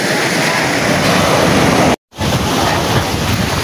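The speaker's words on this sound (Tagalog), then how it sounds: "Mag-i-enjoy talaga kayo kahit na manunood lang kayo dito sa dagat." Sea waves wash in a steady roar at a beach resort in Marihatag, loud and close with wind buffeting the microphone and a brief dropout partway through.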